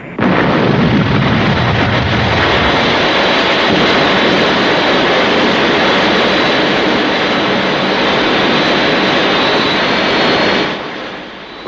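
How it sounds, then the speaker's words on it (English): A Thunderbirds aircraft roars past, a loud, steady, broadband jet rush that holds for about ten seconds, then drops off quickly, with no voices. "that's some aircraft you've got there"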